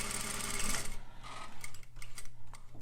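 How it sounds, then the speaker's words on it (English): A sewing machine runs steadily for about a second while stitching a seam with a back stitch, then slows into a few short bursts and isolated ticks, close and fairly loud with no talking. "And then we will sew the seam. Get ready to back stitch."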